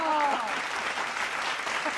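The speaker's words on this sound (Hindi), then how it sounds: "तालियां कमजोर थी" Applause from a political audience rings out steadily, with cheering and a voice over the clapping as it carries on at an even level.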